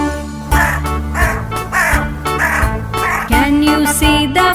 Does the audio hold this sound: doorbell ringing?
no